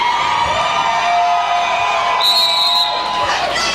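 Fans at a derby event roar and cheer for their teams in a loud, continuous crowd din, with shouts and whoops rising above the steady wash of noise.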